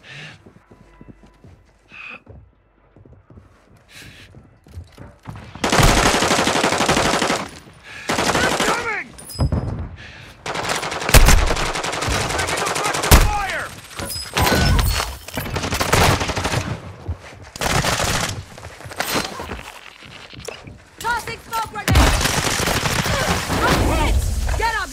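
Call of Duty: Modern Warfare II Plunder gameplay with loud, dense bursts of automatic gunfire and rapid shots arriving in waves after a quiet opening, mixed with game sounds and occasional voices.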